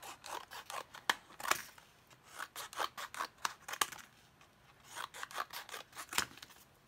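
Scissors snip through paper to cut strips, a close series of crisp irregular cuts and slides in quick clusters, quiet and alone.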